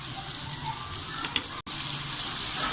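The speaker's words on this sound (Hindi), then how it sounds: "अब हम इसको 5 मिनट भूनेंगे अच्छे से" Chicken with spices, coriander, black pepper and salt, plus chickpeas, frying in a pan in a Punjabi-style chicken chana dish, a steady close sizzle with a brief stir-like clatter.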